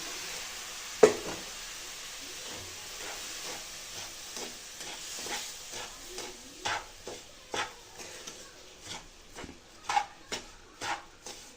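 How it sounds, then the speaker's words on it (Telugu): Rava laddu mixture being stirred in a pan as warm milk is added, with repeated soft scraping strokes and brief clinks building in a steady rhythm, close and without talk. "మిల్క్ని కొంచెం యాడ్ చేసుకుంటూ కలుపుకోవాలండి."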